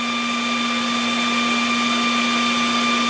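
A portable 12V PCP high-pressure air compressor runs at a constant pitch, a loud steady whine with strong tonal hum, close and alone.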